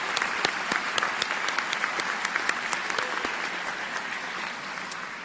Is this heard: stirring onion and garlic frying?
no